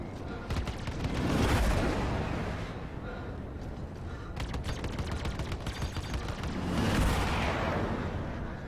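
Missile lock-on and launch in the space-combat video game Star Citizen, flying the Gladius fighter: dense roaring bursts and rushing blasts that swell twice, loud and continuous, with a crackling, gunfire-like texture throughout.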